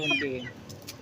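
A backyard gamecock or hen raised for cockfighting clucks in short, close bursts over about a second, a soft farmyard bird sound with some faint background noise.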